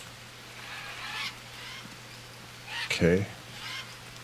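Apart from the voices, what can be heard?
birds calling in the video game Green Hell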